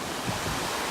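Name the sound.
wind blowing at the shore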